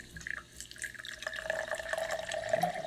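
Filtered Mountain Dew splashes from a pitcher into a glass, a continuous trickling pour whose pitch rises as the glass fills, close and fairly quiet.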